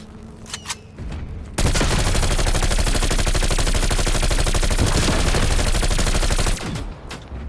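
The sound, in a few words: gunfire from video game Call of Duty Cold War Zombies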